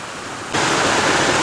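Small creek in Ithaca flowing near the base of a waterfall, a steady broadband rush of water that grows noticeably louder and closer partway through, with no voices.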